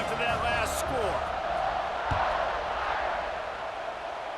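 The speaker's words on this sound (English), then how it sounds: "this crowd is buzzing after that last score." Stadium crowd noise in the College Football 26 video game, a steady broad roar and murmur filling the stadium after a late fourth-quarter score, with a brief thump partway through.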